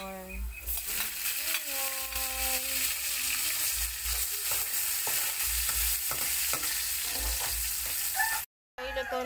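Onion sautéing in a pan with garlic already fried golden brown, a loud, steady sizzle with scraping stirs and clinks of a utensil against the pan, no voices.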